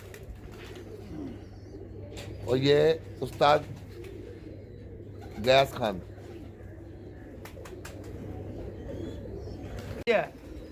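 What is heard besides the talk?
pigeons cooing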